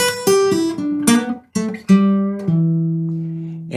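Laid-back acoustic guitar blues lick, a short phrase of plucked notes and slides played close and clear, ending on a low note left to ring out.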